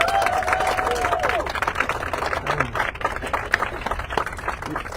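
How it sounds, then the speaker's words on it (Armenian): An audience claps together in a crowded room, a dense, steady patter of many hands that holds for the full stretch, with people's voices murmuring underneath. "ծափերով արտահայտեք"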